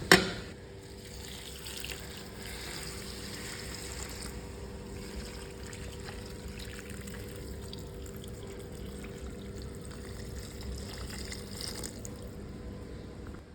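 Water poured steadily from a jug into a cooking pot for Tamil-style noodles, a continuous close splashing trickle lasting throughout with a sharp start, no talk.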